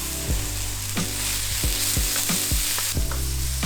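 Snow peas and softened vegetables sauté in a pan for veggie fried rice, a constant loud sizzle with a rhythmic series of spatula scrapes and stirs about every half second.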